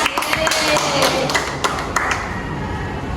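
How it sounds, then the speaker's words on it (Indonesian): A small group of students clapping hands during a school podcast, irregular claps close by and fairly loud at first, tapering into sparser claps. "Tepuk tangan."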